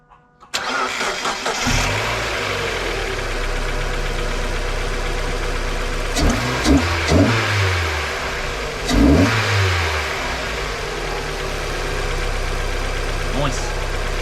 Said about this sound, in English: Now, to start it up and give it a rev.